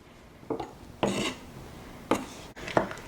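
Diced cucumber tumbles into a bowl of shrimp cocktail ingredients, with four or five short, close clattering scrapes of utensil against bowl over a quiet background.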